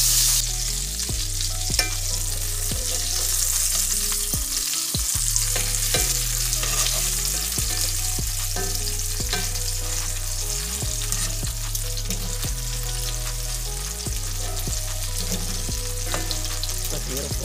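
Breaded oyster mushrooms fry in a pan with a loud, steady crackling sizzle that runs unbroken from start to finish, over a low tonal hum and with no talking.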